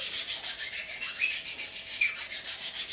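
A kitchen knife is drawn over a sharpening stone in light, even strokes, giving a close, steady rasping scrape repeated in a regular rhythm, with no one talking.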